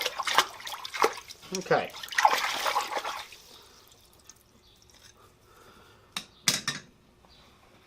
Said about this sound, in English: So now I'll quench the whole tool.